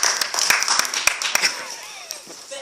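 An audience at a community workshop claps in a short, scattered burst of sharp, close hand claps that thins out and fades over a couple of seconds.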